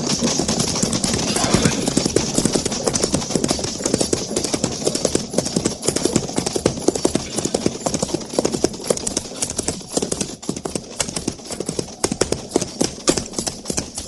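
Hooves of a single approaching horse and rider on a frontier cavalry post, a steady, fairly loud clip-clop rhythm that continues throughout with faint background talk.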